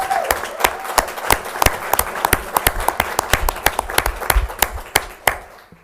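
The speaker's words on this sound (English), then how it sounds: "Let's a round of applause for Dr. Hoover." Audience applause at a school board meeting, a steady run of distinct, fairly close hand claps from a modest group that thins out and stops near the end.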